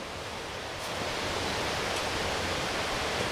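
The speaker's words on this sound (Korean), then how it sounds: "물소리, 시원한 물소리를 들으면서 이렇게 계속 올라갈 수 있게 돼 있답니다" A mountain valley stream on the Seoraksan trail rushes steadily, a dense broadband hiss of flowing water that swells slightly after the first second, constant and unbroken with no voices.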